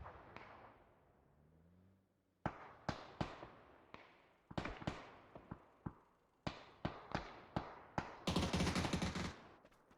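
Grenades going off in PUBG on the snowy Vikendi map during a community tournament match: a rapid string of sharp blasts and bangs, some loud and close, with a dense burst near the end and a low rumble early on.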